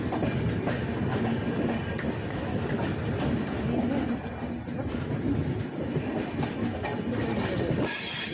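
The Dibrugarh Rajendra Nagar Weekly Express rolls along after leaving Dimapur, with a steady rumble and rhythmic clatter of wheels over rail joints and a faint squeal near the end.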